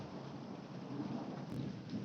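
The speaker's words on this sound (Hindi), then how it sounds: "ये जोर जोर से बादल गरजने लगा फिर से।" Steady thunder rumbles loudly and continuously in a winter storm, with rain pattering throughout and no pauses in the dense, even roar.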